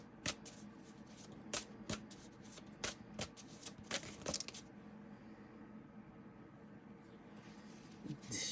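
Quiet, close shuffling of tarot cards with a series of crisp riffling snaps at an uneven rhythm, then softer handling noises.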